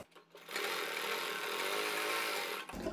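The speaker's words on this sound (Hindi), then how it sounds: "यहाँ पर हम सिर्फ सिलाई लगाएंगे बस" A sewing machine running steadily for a couple of seconds while stitching a pattern onto fabric for a neck design, close and continuous with a whirring hum, then stopping abruptly.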